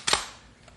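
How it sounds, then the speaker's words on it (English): A single sharp rifle shot in a radio drama set in a bear hunt, one loud close crack with a short ringing tail and no talk over it. "I'm going to aim this rifle right at those doors."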